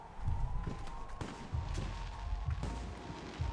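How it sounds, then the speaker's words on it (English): Fireworks in the video game Alpha Protocol pop and boom in a rapid, uneven series of sharp bursts over a steady low rumble, fairly distant and with no voices. "The noise from those fireworks should cover the sound of gunfire."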